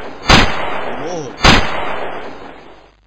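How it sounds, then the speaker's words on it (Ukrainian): Two loud, sharp gunshots go off about a second apart in the Putler Stress Relieve video game, each with a long fading tail, and a brief warbling effect sounds between them. "Тепер ми можемо в нього постріляти."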